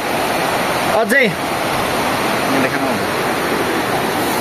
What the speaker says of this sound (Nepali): यहाँ खोला देखाइदिँदा